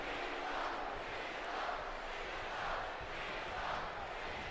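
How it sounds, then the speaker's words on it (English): An arena crowd in the WWE 2K19 wrestling game chants for John Cena, a steady, distant roar with rhythmic swells of chanting and no voices up front. "Crowd chanting for Cena."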